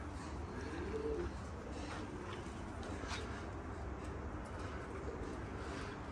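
Pigeons cooing outdoors, soft low repeated coos set against a steady background hum, with no one talking over them.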